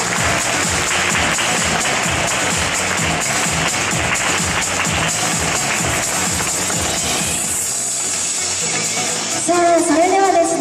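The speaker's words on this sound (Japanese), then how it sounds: "皆様大きな拍手をお迎えください。" Applause from the audience at a fashion show in Nagoya for model candidates, steady dense clapping that fills the room for several seconds before fading, followed by a voice and music.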